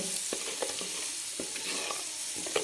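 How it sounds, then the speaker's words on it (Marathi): Spices for a goat mutton curry fry in a pan with a steady, close sizzle, broken by soft clicks of stirring, with no voices. "मस्त एकदम तळून घ्यायचं आहे छान सुगंध सुटला पाहिजे"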